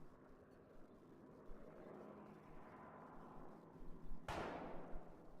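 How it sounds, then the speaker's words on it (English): In the video game Project Zomboid, a distant airplane drones low and steady, then a sudden loud whoosh or blast cuts in near the end, followed by a sustained rumble. "I hear another airplane."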